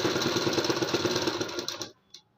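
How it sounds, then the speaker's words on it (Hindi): A sewing machine stitches a seam along a blouse button placket, a close, loud rapid rattling run of needle strokes that stops abruptly near the end, followed by a brief faint clack. "अब 1/2 इंच इस तरीके से लेना है और इसके ऊपर एक सिलाई लगा देना है"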